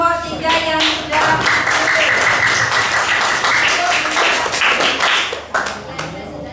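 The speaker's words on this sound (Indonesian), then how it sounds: "beri aplaus kepada kelompok 3 yang sudah" An audience claps for group 3 in a classroom session, with dense, loud applause running for several seconds before it tapers off near the end.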